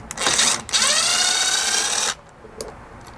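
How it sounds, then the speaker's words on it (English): A powered driver with an 8mm socket whirs steadily for about two seconds, removing a screw behind the driver's seat, up top, inside a Ford Bronco during an overhead MOLLE panel install. Loud and close, it is followed by faint clicks. "grab an 8mm socket and come right here behind the driver's seat up top and remove this single screw on each side"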